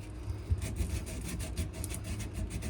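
Sandpaper rubbing across a knife handle in quick, rhythmic back-and-forth strokes, close and fairly quiet, with no talking.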